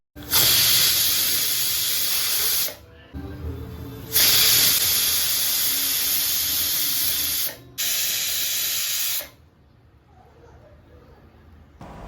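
Pressure cooker of baby food rice releasing steam, with loud, sustained hissing whistles in three long bursts separated by brief gaps, then a quieter tail.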